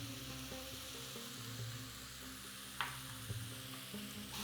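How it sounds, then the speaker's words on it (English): Spiced turkey filling with ginger, black pepper, cumin and paprika, frying and being stirred in a pan for Moroccan pastries: a soft, steady sizzle with a few faint scrapes of the spoon, quiet and without talk. "Stir to combine everything."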